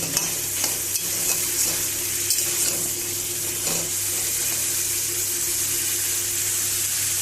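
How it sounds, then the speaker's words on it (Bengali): Pumpkin pieces frying with spices in a pan while sweet pumpkin is cooked with prawns: a steady, loud sizzle with occasional stirring scrapes throughout, no talking. "কুমড়োর সঙ্গে সব মশলাটা আমি একসঙ্গে মিশিয়ে একটু ভাজা ভাজা করে"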